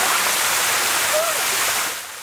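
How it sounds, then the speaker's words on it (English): Waterfall fountain outside a shopping mall, a steady broad rush of splashing water, loud and close, continuous before easing slightly at the end. "it will come true when you toss a coin in this waterfall fountain"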